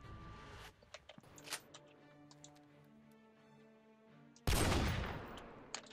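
Sniper rifle shots from an AWP or Barrett ring out in the Roblox game War Tycoon. Sparse sharp cracks and clicks come first, then one loud, broad blast lets its long noisy tail fade away.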